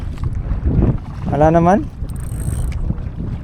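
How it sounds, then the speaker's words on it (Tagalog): Strong wind buffets the microphone aboard a small fishing boat on Manila Bay in bad weather. It makes a steady, loud low rumble throughout, while someone speaks briefly over it. "Lakas ng hangin."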